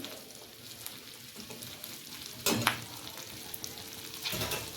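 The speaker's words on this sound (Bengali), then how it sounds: "দো পেঁয়াজের এই যে পেঁয়াজের পাপড়িগুলো ভেজে নিচ্ছি।" Onion slices for shrimp do pyaza fry in hot oil with a soft, continuous sizzle, broken by a sharp burst of crackling halfway through and occasional stirring scrapes.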